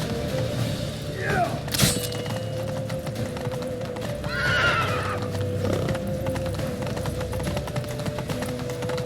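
Galloping horses thunder along with sharp neighs in The Witcher 3, the hoofbeats continuous and loud amid battle noise, with a brief shouted voice over the din.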